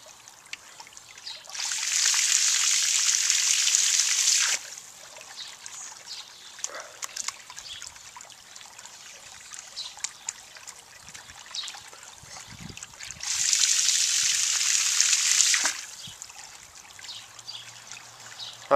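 Water trickling and splashing into a backyard pond in two steady bursts of a few seconds each, separated by quieter stretches of faint background noise.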